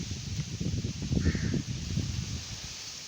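Wind rumbles steadily in a village and a crow caws faintly once or twice in the distance.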